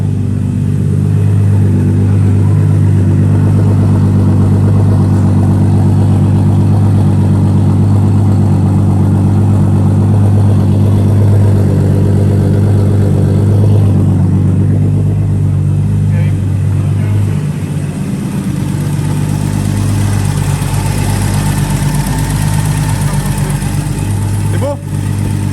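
A turbocharged BMW E36 idles after a cold start on ethanol, a steady low rumble holding evenly throughout with slight variation, loud and close.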